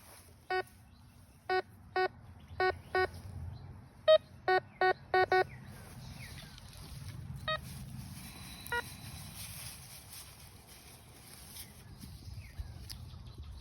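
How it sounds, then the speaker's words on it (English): A Harbor Freight metal detector gives a run of short, evenly spaced electronic beeps over roughly five seconds, followed later by a few isolated beeps, against low background rumble in a farm equipment setting. "Oh, Harbor Freight metal detector."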